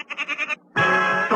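A goat bleats in a quick, wavering series of short pulses, then lets out a longer, louder sustained bleat after a brief pause, heard alone and close.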